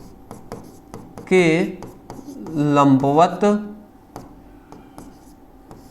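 A pen scratches and taps across a surface while a physics teacher writes during a lesson, with soft intermittent strokes continuing between stretches of his speech.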